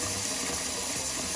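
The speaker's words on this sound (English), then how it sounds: "So I'm about to put water in here." Tap water runs into a pot as it fills to 5 quarts for a pasta dish, a steady close rush and splash that holds without pause, no talking.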